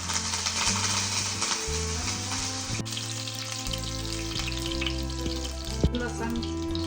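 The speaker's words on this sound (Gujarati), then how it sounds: "આ રીતના બધું તેલમાં શેકી લેવાનું" Oil sizzles steadily in a pan with cumin seeds, cooking for a sev tameta shaak (sev and tomato curry), a continuous close frying hiss with a faint low hum underneath.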